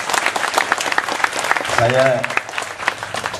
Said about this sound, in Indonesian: Tepuk tangan saya lagi untuk Gus Yusuf.